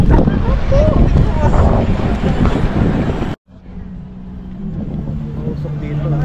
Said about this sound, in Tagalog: Ang bilis ng hangin. Lakas ng hangin.